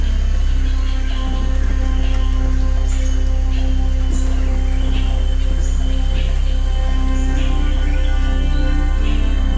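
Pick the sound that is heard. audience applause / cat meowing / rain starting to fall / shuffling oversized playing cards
rain starting to fall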